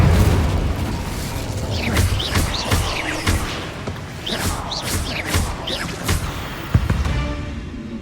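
Incendio fire spell cast on spider sacks in Hogwarts Legacy, heard as a run of bursting, crackling fire blasts and thumps, with several loud hits spread through the stretch over steady game ambience.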